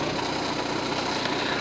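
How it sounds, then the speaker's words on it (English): A truck engine idles steadily during a cab inspection, a continuous even rumble with faint vibration and no voices. "I'm going to keep the engine running for you guys."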